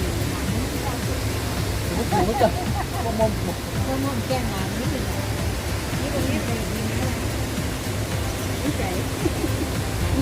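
The Haew Suwat waterfall in Khao Yai National Park sends out a steady rushing roar, with people talking close by over the constant flow of water.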